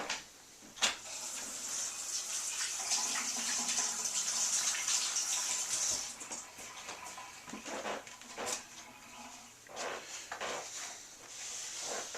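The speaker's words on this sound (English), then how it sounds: "Get your utensils in the water right away so you can get them clean." Running water splashes into a basin while utensils clink and rub underneath, a faint hiss from a tap dominating the first half before scattered knocks follow.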